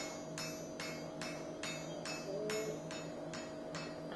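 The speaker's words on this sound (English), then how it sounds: "So you can see I'm going in with a turning hammer." A blacksmith's turning hammer strikes a forged Merovingian-style warrior axe while dressing its curve, giving about ten evenly spaced, sharp metallic blows in a steady rhythm, close and clear over a faint background hum.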